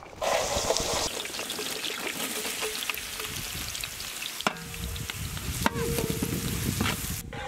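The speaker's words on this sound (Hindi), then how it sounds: "ऑयल गर्म होते ही हम लोग इसमें फाइनली चॉप्ड ऑनियंस ऐड करेंगे।" Finely chopped onions hit hot oil for paneer butter masala, giving a loud, close sizzle with stirring scrapes and a few sharp clinks of a utensil against the pan.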